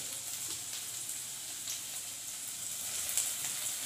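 Bell pepper sizzles in hot oil with finely chopped garlic and green chili, a steady bright frying hiss that carries on evenly throughout.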